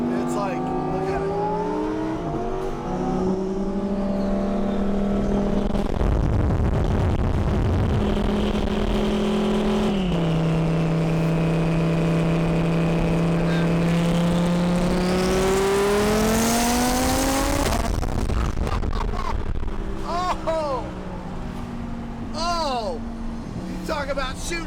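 A Heffner twin-turbo 1,500 hp supercar engine revs loud and close, its pitch climbing and falling through repeated throttle blips, with excited voices talking over it throughout.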